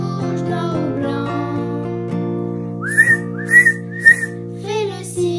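Whistling that imitates a train, a sustained tone followed by several short rising whistle blasts at a children's church programme, clear and close.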